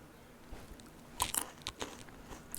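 Fresh raw peanuts from a home harvest crunch under the teeth in a few quiet, close bites, with small crackles and chewing in between.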